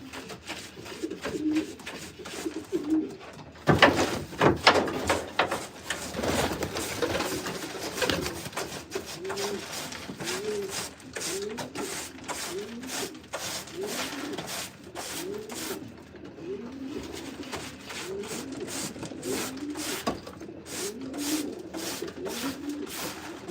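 Pigeons in a loft coo repeatedly in soft, throaty, overlapping phrases, fairly close, with scattered fluttering and shuffling noises and no talking.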